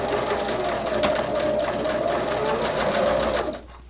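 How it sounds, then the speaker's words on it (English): A sewing machine stitching forward and then back stitching to secure a seam: a steady, close, loud motor whir with rapid needle ticking that runs for several seconds and then stops abruptly. "I'm going to take a stitch and then I'm going to back stitch so it secures that really well."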